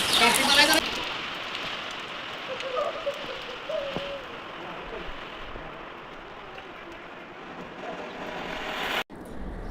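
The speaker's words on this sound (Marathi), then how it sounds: "पाऊस पडतोय बाहेर" Steady rain falls outside a village house, a soft, constant hiss heard from nearby with a few faint background sounds and no speech.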